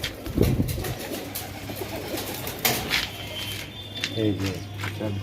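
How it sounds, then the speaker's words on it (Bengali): Dhalpith pigeons coo in low, throaty murmurs close by at a pigeon farm in Nabadwip, with people talking over them and a busy, rustling background. "এটা হচ্ছে ঢালপিঠ পায়রা"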